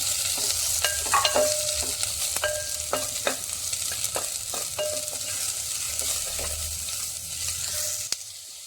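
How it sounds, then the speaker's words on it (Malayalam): Garlic and a large chopped onion fry in a pan for Kerala jackfruit theeyal curry, giving a steady close sizzle broken by irregular scraping taps and knocks from a stirring spoon, with no talking. "ഒരു വലിയ സവാള അരിഞ്ഞത് ചേർത്ത് കൊടുക്കാം. എന്നിട്ട് ഒന്ന് ഇളക്കി കൊടുക്കാം"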